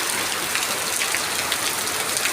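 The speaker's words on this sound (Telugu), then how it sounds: "వర్షం అయితే ఇంక ఉండి పెద్దదైపోతుంది" Rain falling in Vizag: a dense, even hiss of close, steady downpour with no breaks or voices.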